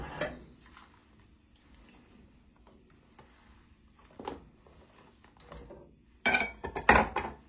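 Seasoned chicken with sazon gets tossed in a bowl, giving scattered soft taps and clinks that end in a few louder, close clattering knocks.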